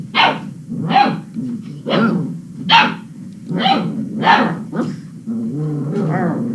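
Puppies bark in a quick, regular run of sharp, loud yips, about seven in a row, close by. A brief voice follows at the end.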